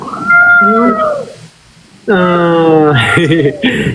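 A white cat meows loudly and close in two drawn-out, wavering cries separated by a short pause.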